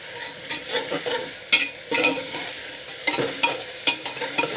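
Ginger-garlic paste frying in a pan, a bright sizzle with irregular bursts of stirring and scraping strokes from a spoon, close and fairly loud, with no voices.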